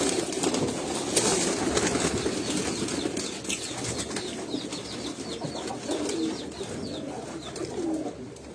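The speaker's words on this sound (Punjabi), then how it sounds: "ਤੇ ਇਹ ਜੌਂਸਰੇ ਵੈਸ਼ੀ ਕਬੂਤਰ ਨੇ ਜੀ ਸਿਆਲਕੋਟ ਦੇ" Jonsre Vaishi pigeons from Sialkot coo steadily in a loft over continuous broadband noise, with soft wing flutters and occasional faint chirps throughout.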